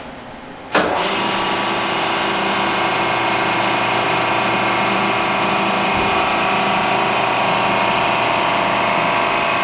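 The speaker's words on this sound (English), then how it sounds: "So now I'm going to start the machine." A concrete cylinder compression testing machine starts abruptly with a sharp onset, then settles into a steady, loud motor and pump hum with constant tonal whine that runs unbroken to the end.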